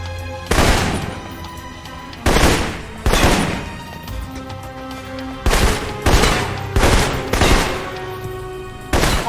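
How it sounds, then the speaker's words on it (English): Assault rifle gunfire in the video game Alpha Protocol, loud sharp shots fired singly and in short bursts at irregular intervals over a low background hum. "For long-range encounters, the assault rifle's the key."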